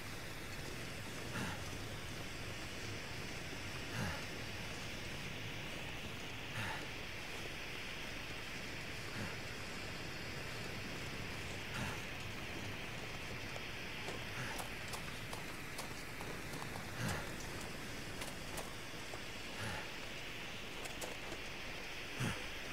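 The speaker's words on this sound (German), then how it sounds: "Das ist der schöne Wasserfall." Steady roar of rushing water from a waterfall in the video game The Long Dark, a constant broadband wash with faint intermittent ticks, heard alone without talk.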